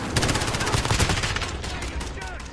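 Loud, rapid gunfire from Call of Duty Warzone, with overlapping automatic bursts and single shots crackling close together throughout.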